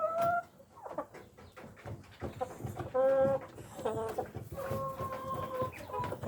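Rhode Island laying hens cluck in a breeder cage on a farm, with repeated close, overlapping calls and a few longer drawn-out squawks over steady low background noise.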